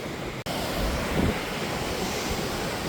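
At Kozhikode beach, surf and ocean waves roar steadily under strong gusting wind that buffets the microphone, a loud, continuous wash after a brief cut at the start, with no one talking.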